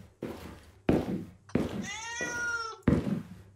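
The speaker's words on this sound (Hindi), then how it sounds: "बिल्ली की आवाज है।" A cat in a horror video game meows in a drawn-out, wavering call, framed by heavy thuds and knocks before and after, moderately loud and close.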